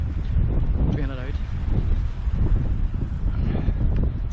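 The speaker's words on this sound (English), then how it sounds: "It's still a bit windy." Wind in the Donegal mountains, heard as a loud, constant rumble and buffeting on the microphone. A voice can be heard faintly underneath.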